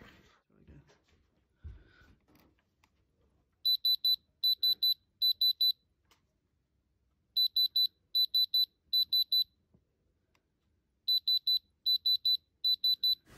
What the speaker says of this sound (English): If it is a diamond, we should get that beep and the lines into the red.